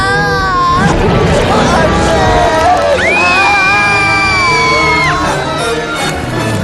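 Children shout and scream together to frighten someone in an animated film, with loud high-pitched sustained yells and whoops that rise and fall, one long piercing shriek standing out in the middle, over busy background noise.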